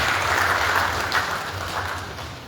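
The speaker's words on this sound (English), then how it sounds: "Can we get a round of applause for that" Audience clapping at an agricultural university event in Africa, a dense, steady patter of many hands filling the room at fairly close range, holding evenly throughout before tapering slightly.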